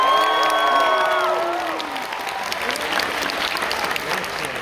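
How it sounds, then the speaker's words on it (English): A convention crowd at SMASH Con Sydney breaks into loud applause with some cheering, following a fading voice at the start, then settles into steady clapping. "Let's give them a big round of applause."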